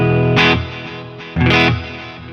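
An electric guitar played through a Guitar Rig 6 Pro reverb effect, two strummed chords each ringing out into a lingering wash, with no voices.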